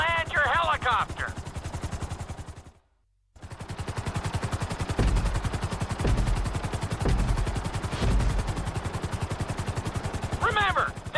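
A Grand Theft Auto V helicopter's rotor chops in a steady, fast rhythm with a loud engine drone, briefly cutting out before resuming, with short bursts of synthetic effects.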